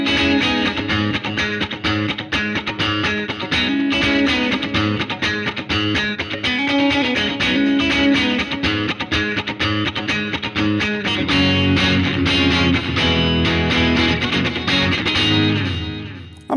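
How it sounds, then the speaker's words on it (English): Electric guitar played through an amp simulator with delay and reverb added after the amp, a loud continuous passage of chords and notes with washy trails, alone without talk. "I've added a delay and a reverb after the amp."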